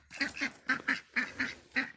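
Duck quacking in a backyard coop, six or seven harsh nasal calls in a steady rhythm, each paired with a quick follow-up, close and clear with no talking.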